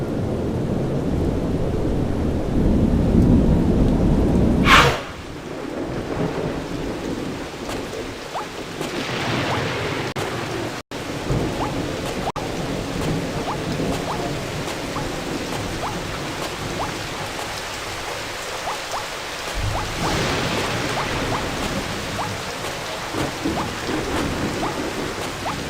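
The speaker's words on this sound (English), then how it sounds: "Maybe our friends came in here to take shelter from the rain." Video game rain and thunder from BattleBlock Theater on Xbox 360: a steady, loud downpour hisses throughout, cut by a sharp thunder crack early on, with rumbling swells later.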